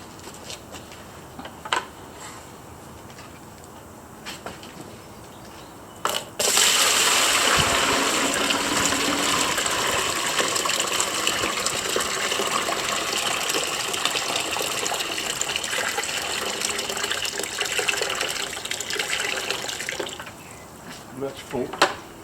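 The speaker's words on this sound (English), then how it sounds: "Just fill it full of water, weigh it" Water gushes loudly into a Yeti Roadie 15 hard cooler, a steady rushing pour that starts abruptly and runs for about fourteen seconds before cutting off.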